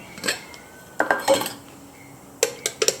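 An Eagle Products 0.7 L campfire kettle set down into a Trangia 25 cook pot, giving a few sharp close metallic clanks and rattles in two short bursts with a quiet gap between.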